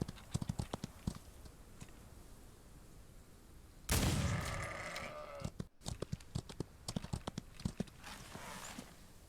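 Sheep bleats and light clopping footsteps in a Wild West video game, over a steady background, broken by a loud rushing burst partway through.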